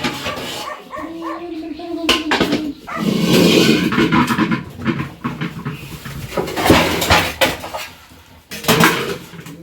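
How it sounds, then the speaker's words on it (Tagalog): Large woks and cooking pots are handled in a home kitchen, giving irregular metallic clanks and scrapes that come in bursts over several seconds at close range. "malalaki nating kawali at kaldero guys"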